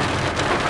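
Steady rain falling and pattering on a surface during a drive, a dense continuous hiss with no voices.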